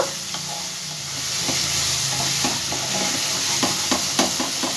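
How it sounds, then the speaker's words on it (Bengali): Moong dal stir-frying in oil with spice paste, close and steady, with a constant sizzling hiss broken by repeated scraping and stirring strokes from a utensil in the pan. "মশলার সাথে ভালো করে ডালটাকে একটু আমি কষিয়ে নেব।"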